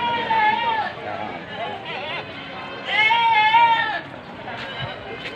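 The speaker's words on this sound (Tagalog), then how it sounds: "Dito ang kambing oh." Goats on a livestock farm give loud, wavering bleats, two long calls a few seconds apart with softer bleats between, close by amid a herd, while someone talks.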